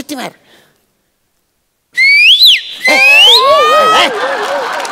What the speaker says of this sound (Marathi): शिट्टी मार